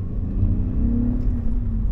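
A BMW E39 engine fitted with a custom cold air intake, Dinan and Turner 4-inch MAF parts and an N62 throttle body, accelerating with a steady low rumbling drone and a slight rising tone, close and continuous.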